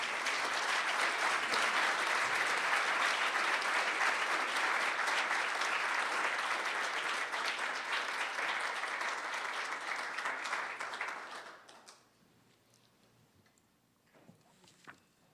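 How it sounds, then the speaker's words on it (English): An audience at a ballot measure debate on sentencing gives a long round of applause for the debaters, sustained and dense for about eleven seconds before fading to scattered claps. "let's welcome our debaters with our only permissible round of applause"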